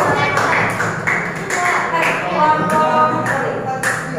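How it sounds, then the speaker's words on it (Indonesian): Students in a classroom clap for a presenting group, a brief scattered round of hand claps blending with ongoing voices and talk nearby. "Tepuk tangan untuk kelompok Stella"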